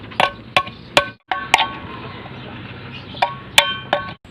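Tin can being hammered so its cut edges fold inward: sharp metallic clinks and taps at an irregular pace, close and fairly loud over a steady low background hum.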